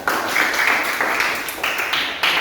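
Classroom students give steady applause for a presenting group, a dense, continuous patter of many hands clapping fairly close for a couple of seconds.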